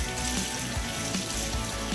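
Running cold tap water splashes as old marimo moss balls are squeezed out beneath it, a steady close rush with soft wet squelches pulsing a few times.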